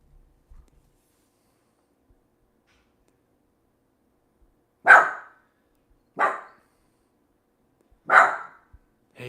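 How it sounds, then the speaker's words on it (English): A dog named Jake, indoors, gives three separate sharp barks spaced a second or two apart, fairly close and loud, with near silence between them. "My dog's barking a little bit."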